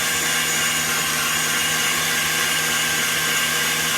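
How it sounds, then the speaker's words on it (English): An electric mixer runs steadily at medium to high speed, whipping sugar into stiff peaks. The motor gives a loud, even whir close by, with no pauses, and no one talks over it. "And we want to keep mixing this on medium to high speed until we get kind of firm stiff peaks"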